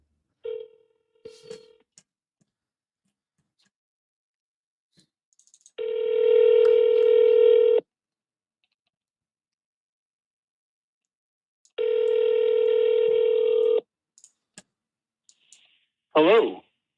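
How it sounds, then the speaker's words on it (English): A telephone number is dialed, with scattered clicks and short tones, then two long sustained phone tones of about two seconds each separated by silence, and a brief voice at the end. "let me know how the new mic sounds and if it's going to sound good on these phone calls"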